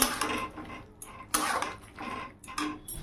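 A spoon scrapes and clinks in a pan while potato and bean curry with sugar and raw mustard oil is stirred, close-up metallic knocks and wet scraping in an irregular rhythm.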